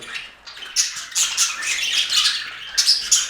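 Pet budgerigars squawk and chirp close by in short, bright, repeated bursts, with brief pauses between calls and no voices.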